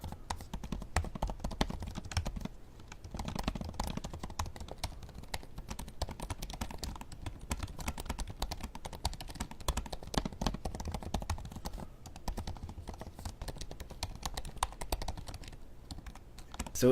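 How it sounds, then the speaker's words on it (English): Typing on the keyboard of a 2018 MacBook Pro, a quiet, rapid, continuous patter of soft key clicks running through sentences with brief pauses, close and alone. "I'm going to type a couple sentences."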